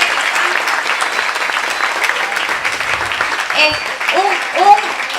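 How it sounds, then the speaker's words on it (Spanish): An audience at a Cuban community event in Miami claps in a full burst of applause, with voices calling out over it near the end. "caballeros, aplausos para toda esa gente"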